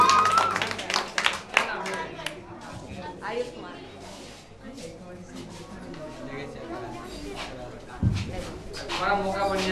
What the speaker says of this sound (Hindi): राइट आंसर का जोरदार तालियां बजाएं इनके लिए।